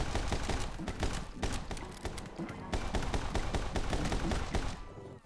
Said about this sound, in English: I'm shooting enemies in air